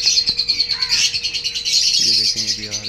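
Budgerigars in an aviary chirp and twitter continuously at close range, a dense, bright chatter with a few short calls standing out.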